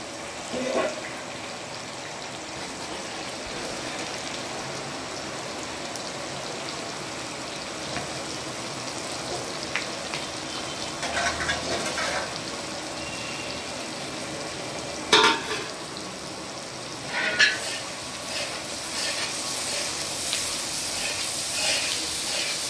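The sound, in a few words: mutton cooking with whole spices and onion sizzling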